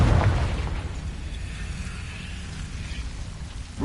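A Confringo blasting curse from a Harry Potter video game bursts loudly at the start, then its rumbling explosion decays into a long, rough, noisy tail.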